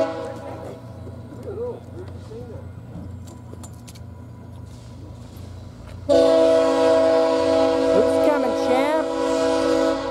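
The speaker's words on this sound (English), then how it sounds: "It's the train." A VIA passenger train rumbles past, then a loud, sustained horn blares close by and holds for several seconds over the rolling wheels; a voice speaks faintly earlier.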